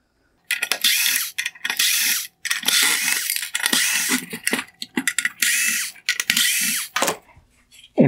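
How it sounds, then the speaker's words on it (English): T20 Torx screws are unscrewed from a 2019–2021 Porsche Cayenne LED headlight with a power driver, giving repeated close whirring bursts separated by short pauses and small clicks, with no talk. "I will remove both side LED units by removing the T20 Torx screws holding them in place."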